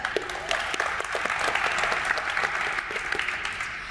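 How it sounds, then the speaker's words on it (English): Steady applause from an audience at an art exhibition gathering fills the whole stretch, with dense, continuous clapping and a faint crowd murmur underneath. "Clap it up."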